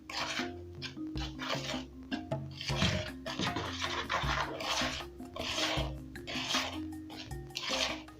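Dry ingredients for oat pancake batter are mixed in a bowl: oats, cinnamon, salt, baking powder and sugar. The utensil gives a close, soft, repeated rubbing and scraping against the bowl, with a brief clatter partway through, and no one speaks.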